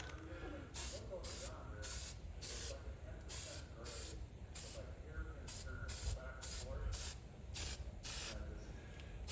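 A spray can mists coating onto a 1978 Corvette steering column part in repeated short hissing bursts, close and fairly steady, with a voice talking over much of it.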